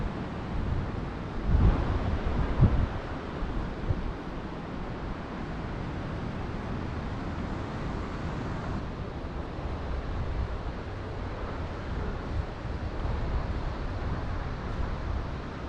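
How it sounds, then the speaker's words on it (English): Waves crash against the outside of rocks along the Great Ocean Road coastline between Torquay and Lorne, a continuous surging wash, with wind buffeting the microphone and a couple of louder breaking bursts early on. "The waves just crashing over the outside of the rocks there."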